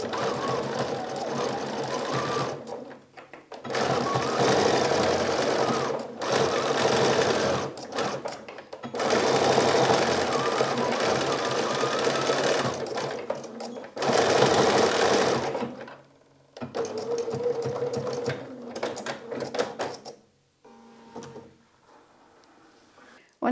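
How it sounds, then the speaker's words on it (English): Sewing machine stitching a zigzag back and forth over coiled rope for a rope bowl, loud rapid mechanical whirring in several bursts separated by short pauses, with no talk. "We go over this point with the zigzag stitch a couple of times, back and forth to secure it."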